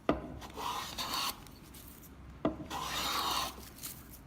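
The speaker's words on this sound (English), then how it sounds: "I'm going to start from the outside, take a shaving across the whole width of the board." Steel cabinet scraper drawn across a wooden board, two distinct rasping strokes each opening with a sharp bite and trailing into a dry shaving scrape, close and alone.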